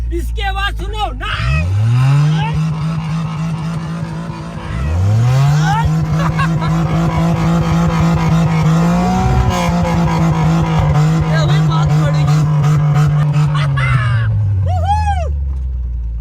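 A four-wheel-drive car engine revs hard and close: a loud roar climbs, eases off, then climbs again and holds a high, sustained note before winding down.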